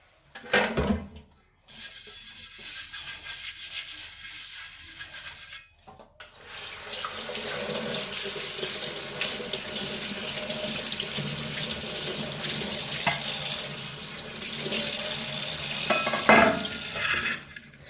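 Tap water runs over an iron dosa pan being washed, a loud steady gush that starts after a brief spurt, stops, then flows continuously with scrubbing splashes, close and alone.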